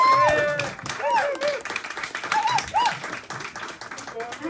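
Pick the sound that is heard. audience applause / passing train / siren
audience applause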